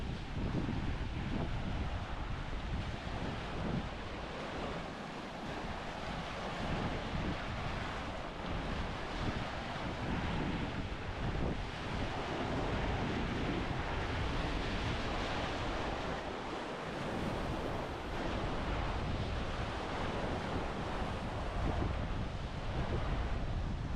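Sea waves wash continuously over a rocky beach in Sweden, mixed with steady gusting wind buffeting the microphone, forming a loud, unbroken roar throughout.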